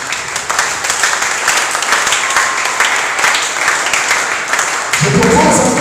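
A church congregation applauds and cheers during a worship service, a loud, steady wash of clapping that fills the whole stretch, with louder voices rising near the end.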